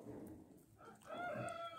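A dark Brahma rooster crows faintly in a farmyard, one drawn-out call rising near the end amid soft background noise.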